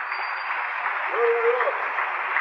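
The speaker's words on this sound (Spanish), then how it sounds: "démosle un aplauso bien fuerte al Señor." A church congregation applauds during a Spanish-language service led by an apostle, a short, dense patter of clapping heard muffled and thin, with a voice briefly rising over it.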